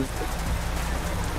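Steady rain hisses across a mining site in Indonesia where a convoy of trailer trucks is hauling loads, a dense, constant wash without breaks, with low rumble underneath.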